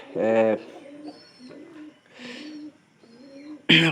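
Soft low pigeon coos repeat a few times at close range, with a brief louder call at the start and a sharp noise at the end.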